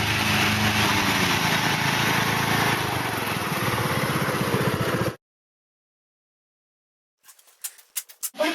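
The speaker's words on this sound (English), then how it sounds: "A 20-horsepower lawnmower." A 20-horsepower lawnmower engine drones loudly up close with a rough, pulsing throb, then stops suddenly; after a pause, a few faint clicks and knocks follow.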